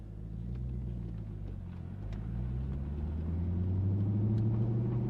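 A C5 Corvette pulls away, its engine a deep steady rumble that builds gradually as it accelerates, heard from inside or close by with no talking.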